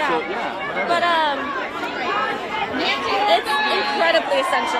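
A protest crowd outside the Supreme Court during an abortion-rights rally fills the background with a dense, steady babble of many voices while one person talks close up over it.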